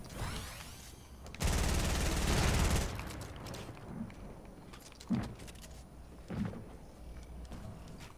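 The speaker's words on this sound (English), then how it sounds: "He's shooting us out." A shooter video game fires a loud sustained burst of gunfire, followed by several scattered single shots and impacts against a dull background.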